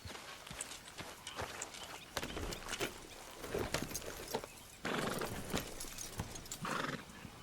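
Repeated hoof clops from a horse moving at a walk and trot in a video game, with a couple of whinnies breaking through, fairly close and steady.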